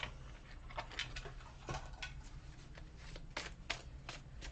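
Tarot cards riffled and dealt out in a quiet room, a run of soft crisp card snaps and flicks at irregular intervals, close and faint over low steady background hum.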